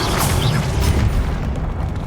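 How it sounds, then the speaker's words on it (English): A Confringo fire spell bursts in Hogwarts Legacy gameplay, a loud booming explosion with rumbling low end that stays dense for about two seconds before thinning out. "Confringo!"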